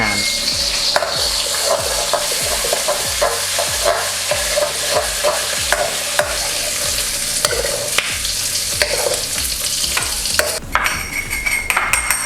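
Dried shrimp, rinsed of salt, frying briefly in a pan: loud, continuous crackling sizzle with regular scraping stirs of a utensil throughout, close and steady with no voices.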